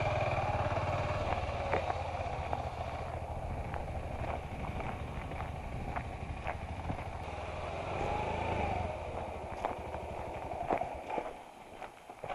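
An adventure motorcycle at a riding training session in Labertouche, Victoria idles and runs at low speed with a steady engine drone, punctuated by bumps and clatter, and ends with wind noise.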